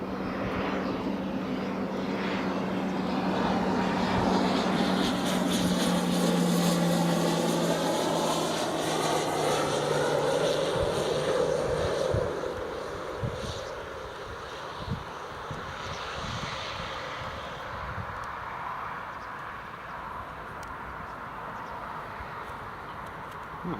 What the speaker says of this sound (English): it's an RAF Grob Cheetah. By the looks of it, just about to come in.